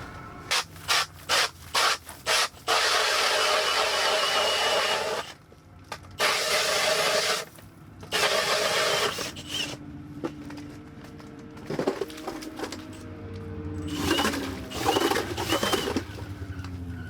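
An auger bores a hole through frozen lake ice at an ice camp, grinding in loud, sustained bursts of coarse scraping noise separated by short pauses and softer knocks and rubs.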